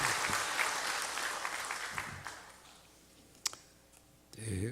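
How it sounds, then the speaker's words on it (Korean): Church congregation applauding at a Korean Parents' Day service, a dense wash of clapping that fades out over a few seconds, followed by a couple of sharp clicks and a brief burst of noise at the end. "나오실 때에 우리 환영하는 의미로 박수로 맞이하겠습니다."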